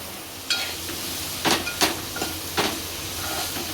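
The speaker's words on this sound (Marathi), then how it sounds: "आता यामध्ये आपण जवला घालूया, जो धुवून घेतलेला आपण" Washed jawla, tiny dried shrimp, tipped into a hot pan for a Kokani vegetable dish, giving a steady close hiss of sizzling broken by several short crackling bursts, with no talking.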